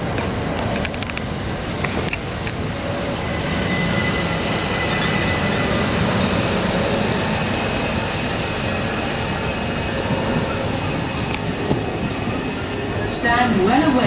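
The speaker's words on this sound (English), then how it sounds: "1721 Southern service to London Victoria" A Southern train to London Victoria rolls through Clapham Junction, a steady loud rumble of wheels on rails with squealing tones and clanks, continuous throughout, with faint station sounds around it.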